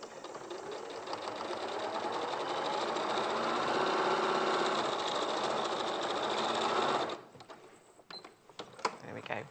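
A sewing machine runs steadily for about seven seconds, stitching two pin tucks along pressed fabric folds, then stops, leaving faint handling noises after it.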